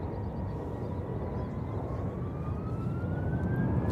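A Delta Connection Embraer 175 LR lands on runway 28 Left at San Francisco International: a loud steady jet roar with a slowly rising engine whine.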